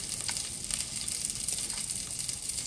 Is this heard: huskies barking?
no